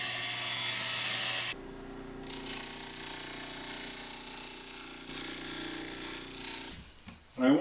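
A router cuts a groove along the underside of a wooden handle, a high whining motor that drops into a lower grinding tone partway through, then stops with some clunks near the end; no talking.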